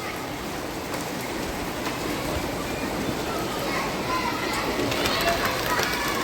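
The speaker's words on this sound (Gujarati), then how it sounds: "તો આવું કંઈક આવે છે વરસાદ." Rain falls steadily past a balcony in the early evening, a soft continuous wash with a few distant voices and children's sounds beneath it.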